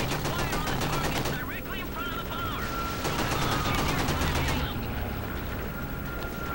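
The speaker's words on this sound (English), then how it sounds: "I should be shooting ME-109s" Sustained rapid gunfire rattles loudly at ME-109 planes in Call of Duty 2, with bursts of machine-gun fire layered under people talking.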